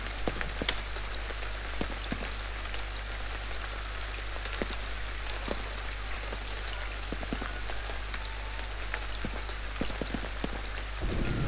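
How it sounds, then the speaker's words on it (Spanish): Steady rain pours in the Ghostwire Tokyo game world, a dense continuous hiss of drops on surfaces with scattered sharper splashes, loud and close throughout with no voices. "Ahora se pone a llover también."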